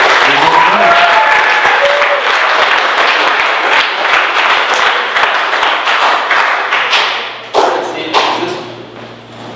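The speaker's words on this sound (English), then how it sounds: "So let's give him a big round of applause" A large seated audience gives a speaker a loud, sustained round of applause, mixed with scattered thumps and taps, before the clapping tapers off near the end.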